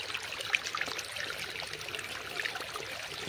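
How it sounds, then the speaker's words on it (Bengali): Water flows and trickles outdoors in nature as a continuous soft murmur with light bubbling and splashing detail, steady and fairly quiet, with no voices. "জলের কলরব এত সুন্দর লাগছে।"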